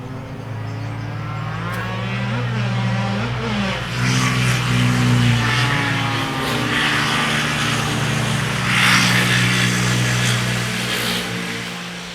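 A passing car revving hard as it speeds down a street, its engine note climbing through gears, loud and close for several seconds before easing off as it moves away.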